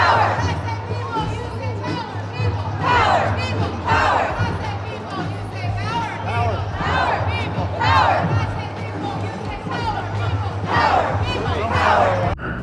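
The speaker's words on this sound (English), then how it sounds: "Is she going to change up this little chant she's doing?" A protest crowd marching at the No Kings Day rally by Philadelphia City Hall chants in rhythmic, repeated call-and-response bursts, loud and close, with shouting voices layered over a constant low rumble.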